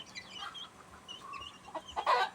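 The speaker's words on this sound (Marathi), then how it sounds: "बघा कोंबडीने किती पिल्लं काढलेत बघा" A hen clucks with her brood of chicks nearby, bright peeping chirps rising over low farmyard ambience, close and building louder toward the end.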